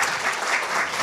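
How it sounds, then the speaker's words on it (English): An audience claps for a panel at a 2024 State of Education event: a dense, steady wash of applause that fills the whole moment, with no voices over it. "how about one more round of applause for our panel?"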